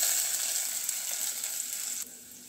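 Crushed garlic and green chillies sizzle in hot oil with asafoetida, a bright, steady hiss that fades slightly and drops to a softer crackle near the end.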